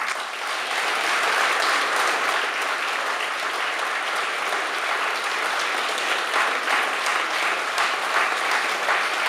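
Sustained applause from an audience at the formal opening of a senior citizens' centre, a dense, even roar of clapping lasting throughout without pause.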